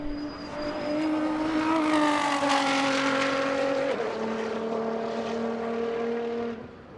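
A time-attack race car at Road Atlanta screams past at high revs on a flying lap into turn one, pitch dropping sharply as it passes, then drones on and fades away.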